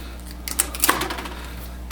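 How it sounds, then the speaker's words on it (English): Packing tape peeled off the front of an HP Deskjet Ink Advantage 2020hc printer box during unboxing, a few quick crackling rips in the middle of a short, otherwise quiet moment, close by. "let's take this tape off the front."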